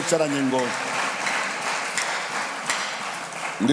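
A church congregation applauds steadily, a dense wash of clapping lasting several seconds, with a voice speaking briefly at the start and again at the end.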